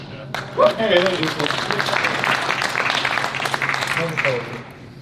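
Audience applause at a Hall of Fame ceremony, a dense sustained wash of clapping lasting several seconds, with voices talking over the start and end.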